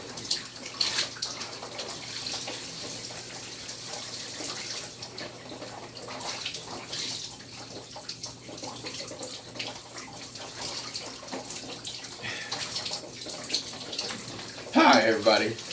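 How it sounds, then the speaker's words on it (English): An ice-cold shower runs in a steady, close hiss of spraying water, with a voice speaking over it at times. "You caught me while I was taking a shower."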